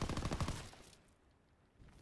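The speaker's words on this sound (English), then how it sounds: "I love when there's a light machine gun literally inside of my chest." Light machine gun fire in a WW2 video game, a rapid burst of close, rattling shots lasting about a second, then fading into quiet background noise.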